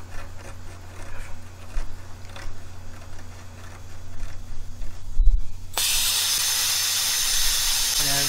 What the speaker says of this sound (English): I'm using map gas here, getting it up to red